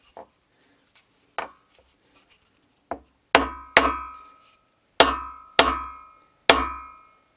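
A ball peen hammer strikes metal while a knife handle is being fitted: a few light taps, then five loud, close, ringing blows that decay over about half a second each, spaced irregularly.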